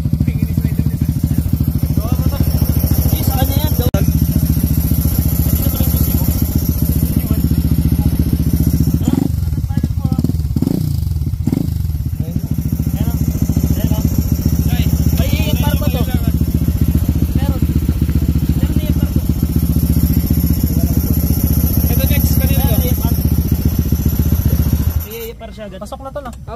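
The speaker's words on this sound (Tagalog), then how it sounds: "Racing seat tapos power pipe. race bike yan." Race motorcycle fitted with a racing seat and power pipe exhaust, running steadily and loudly throughout at a club chapter gathering, with a brief revving burst near the middle, under people talking, cutting off abruptly near the end.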